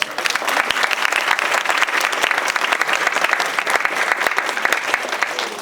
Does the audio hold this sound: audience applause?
yes